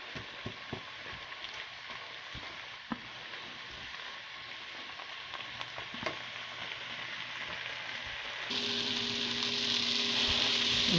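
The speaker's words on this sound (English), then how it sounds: "And here's the onions almost fully cooked. I'll let them brown a tiny bit more." Onions sizzle steadily in a pan as they near full browning, a soft continuous crackle with a few utensil taps, growing louder and brighter near the end as the heat rises.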